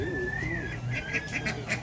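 Ducks quack in short repeated bursts near the end at Trichy Birds Park, over a faint background hum, with a soft voice in the mix.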